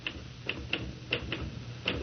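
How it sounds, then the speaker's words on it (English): Manual typewriter keys clatter in an uneven rhythm, about eight sharp mechanical strikes in two seconds, close and moderately loud. "Stop that typing."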